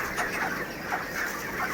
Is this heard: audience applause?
no